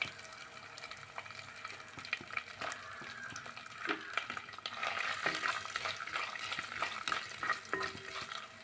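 Pieces of coconut fry in a pan with mustard seeds, giving a steady close sizzle broken by scraping stir strokes and small pops, with no voices.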